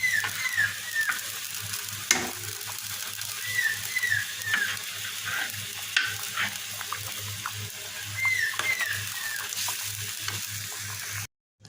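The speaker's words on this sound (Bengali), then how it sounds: "এখন আমি ভেজে রাখা মাছগুলোকে দিয়ে দেবো" Fried pangas fish simmering in a pan with mango bar gives a continuous close sizzle with repeated stirring and scraping, and no voices over it.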